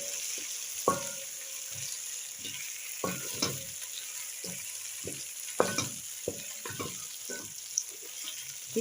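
Pilau being stirred in a hot pot after pilau masala and garam masala go in, with repeated scraping strokes of a spoon in an uneven rhythm over a continuous soft sizzle of frying, close up and without talk.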